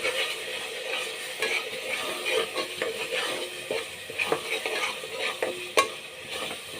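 Ground masala paste fries in a pan for a simple pulao while a spoon stirs it, with repeated scraping strokes over a soft, continuous sizzle.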